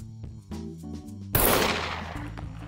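A single loud gunshot from the survival video game Scum cracks out sharply partway through, leaving a noisy tail that fades slowly over a steady tonal background.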